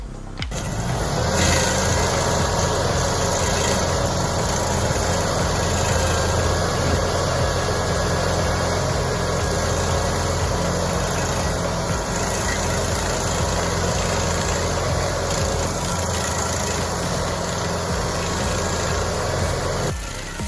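A brand-new 7015 TRX stump grinder runs at a tree-cutting job, its engine a loud, continuous, unchanging drone with heavy low rumble, close up and steady throughout.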